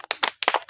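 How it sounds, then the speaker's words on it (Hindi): Village children clap in a classroom contest, a few close, uneven hand claps in a quick scattered burst lasting under a second. "ताली मारिए"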